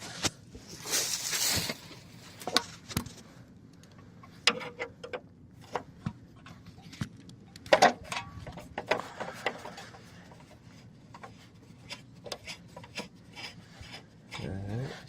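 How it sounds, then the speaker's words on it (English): A screw is worked out of an Invacare Pronto M91/M94 power wheelchair motor. Close, quiet, intermittent scraping and rasping ticks come from the driver turning the metal screw, with no voices. "Getting that screw out."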